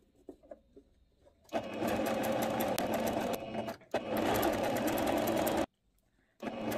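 A sewing machine stitches the folded hem of a viscose skirt in three loud, close bursts of rapid stitching, separated by brief pauses.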